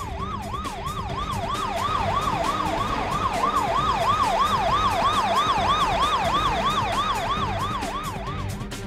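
A parking enforcement vehicle siren wails in quick, steady rising-and-falling cycles for the whole stretch, loud over a rumbling traffic background on a street in Cheongju, South Korea.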